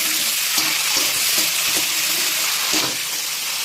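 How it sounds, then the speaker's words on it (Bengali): Cauliflower florets fry in oil over a high gas flame, giving a steady, close, dense sizzle with a few soft stirring knocks and no voices. "গ্যাসের ফ্লেমটা হাই করে দিচ্ছি আর ভেজে দিচ্ছি জাস্ট কয়েক মিনিটের জন্য।"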